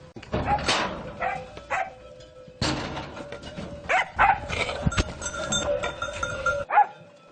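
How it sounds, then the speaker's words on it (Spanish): A herd of goats with a dog on dry pastureland, with a dog barking and goats bleating in irregular outbursts amid rustling and outdoor noise, moderately close. "pastorea cada día sus cabras"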